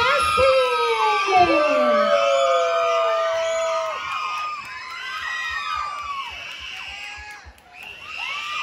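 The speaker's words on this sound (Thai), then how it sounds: "ขอเสียงกรี๊ดให้กับทีมแคสซี" A concert audience at a K-pop dance cover show screams and cheers loudly and continuously, with high shrieks rising and falling in overlapping waves from many voices, filling the whole stretch.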